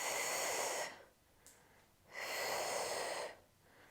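Two strong, breathy exhales while squeezing a Pilates ring during a prenatal and postpartum workout, each lasting about a second, separated by a short quiet pause with a faint intake of breath.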